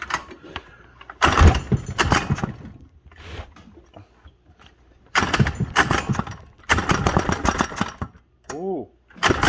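A Predator 79cc small engine with choke on is pulled over several times, each sputtering burst of cranking catching briefly, and the close, uneven running revs in and out between pauses, with a short rising whine near the end.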